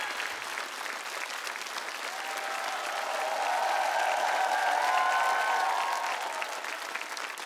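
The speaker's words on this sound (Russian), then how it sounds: "Эти аплодисменты тебе." Studio audience applause for a singer at a TV singing show final, a sustained dense clapping that swells in the middle while a musical tone hums underneath, with some faint cheering.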